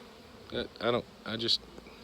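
Close, droning buzzes of bees swell and fade in three short bursts over a faint background hum.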